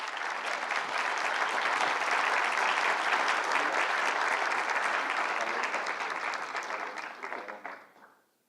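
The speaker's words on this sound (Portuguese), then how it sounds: "Gente, uma salva de palmas." Sustained applause from a seated audience in a conference auditorium, dense and steady for about seven seconds before tapering off and fading out at the end.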